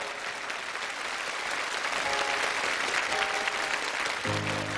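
An audience applauding at a televised stage event in China, steady sustained clapping from a large crowd that swells slightly before a music tone enters near the end.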